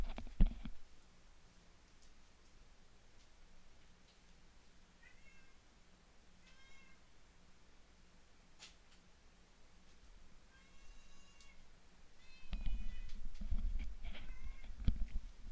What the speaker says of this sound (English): my cat is currently meowing at my door